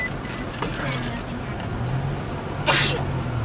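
One sharp sneeze bursts out near the end, close and loud, over a background of road traffic and low engine hum inside a car near Boston.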